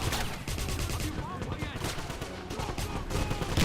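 Rifle gunfire from the 2009 shooter Wolfenstein, a dense series of rapid shots and impacts mixed with game sounds and music, while a player's voice talks over it.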